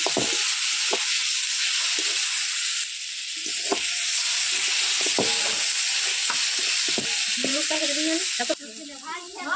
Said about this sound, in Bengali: টমেটোটা প্রায় ফ্রাই করা হয়ে গেল।